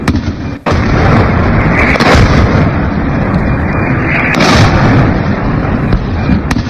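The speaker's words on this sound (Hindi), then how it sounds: "ये ईरानी मिसाइल आकर गिरी है और यह धमाका इजराइल में हुआ।" A loud, heavy boom from an Iranian missile striking Israel opens, followed by a dense, sustained rumbling roar with a couple of sharp cracks breaking through.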